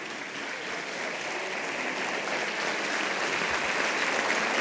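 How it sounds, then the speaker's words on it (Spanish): A large audience at a folk music festival gives a full, steady round of applause. Heard from a distance, it forms a dense, even roar of clapping that holds without pause and grows slightly toward the end. "fuerte el aplauso también para Fuenci"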